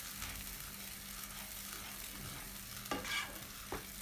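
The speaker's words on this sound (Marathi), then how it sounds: "आपण पालक खिम्यात चांगला परतून घेणार आहोत." Spinach being sautéed into chicken kheema in a pan, a soft continuous sizzle with scraping stirs, including a louder spatula stroke near the end.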